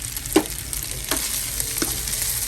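Red chili fried rice, Malay nasi goreng, sizzles steadily in a hot pan while a spatula scrapes and stirs it in a few distinct strokes, close and loud with no voices.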